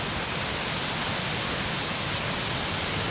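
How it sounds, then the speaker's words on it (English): Steady, dense broadband rush of a waterfall in cold 18-degree winter weather, loud and unbroken throughout with no other sounds standing out. "that waterfall is gorgeous"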